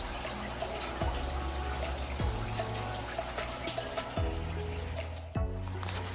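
Water runs steadily during a water change on a shrimp tank, a continuous rushing flow with a few soft drips and splashes standing out close by, with no talking.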